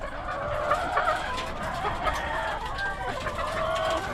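Many chickens cluck and squawk over one another nonstop, a busy, close-up flock in a battery cage with a constant background rumble.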